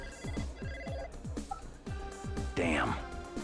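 A telephone ringing in the Blade Runner game, heard as a rapid series of warbling, downward-chirping electronic trills repeated in quick bursts, moderately loud over a faint background hum.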